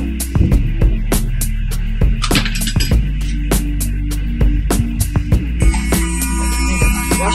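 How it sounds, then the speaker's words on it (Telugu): A small battery-powered toy washing machine runs with its little blade spinning, giving a steady low electric hum with repeated light clicks and rattles, loud and close throughout. "వాషింగ్ మిషన్ ఆన్ అయింది."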